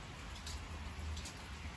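Light drizzling rain outdoors, a soft steady patter heard faintly and evenly with no other sounds standing out.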